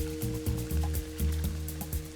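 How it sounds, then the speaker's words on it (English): Boiling water poured over French green lentils, a steady close stream of liquid filling a bowl, with a faint rhythmic pulse running through the pour. "Just cover them with boiling water and let them soak for about 15 minutes."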